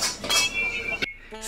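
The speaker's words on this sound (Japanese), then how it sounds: "この鍋の音最高ですよね。" Metal pots and pans clank in a busy ramen shop kitchen, a cluster of bright clinks and knocks over steady kitchen clatter, close and moderately loud, with voices faintly mixed in.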